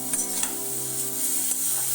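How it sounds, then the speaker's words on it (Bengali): Moong dal frying in a pan with a little salt and turmeric, a steady close sizzle with a few scraping stir strokes breaking through, no talk. "দিয়ে ভালো করে এটা ভাজতে হবে।"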